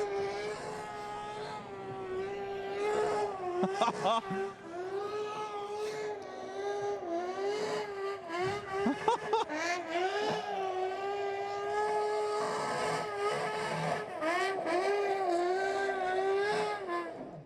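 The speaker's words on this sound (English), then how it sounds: "Back straight away, he's going to do some donuts." A Camaro modified sedan race car does donuts, its engine revving and wailing in rising and falling sweeps with tire squeal, heard at moderate distance for a long stretch.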